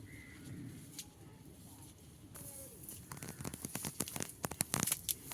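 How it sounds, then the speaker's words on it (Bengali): Taro leaves being picked by hand in a garden give quiet rustling and several sharp snapping, tearing sounds, growing busier in the second half over faint outdoor ambience with birds. "এই যে কচুর পাতা তুলে নেব"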